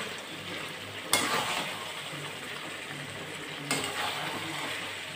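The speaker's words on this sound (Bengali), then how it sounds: "এখন চিকেন রান্না হচ্ছে" Chicken cooking in a pan with very little oil, a steady soft sizzle running throughout and two brief louder bursts as it is stirred, close by with no talk.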